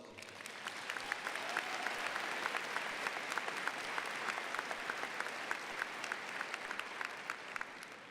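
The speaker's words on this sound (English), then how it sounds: "can we all give them a huge round of applause?" A graduation crowd at a high school ceremony applauds the senior class officers, a sustained, even clatter of many hands clapping in a large space, heard from a distance and fairly soft.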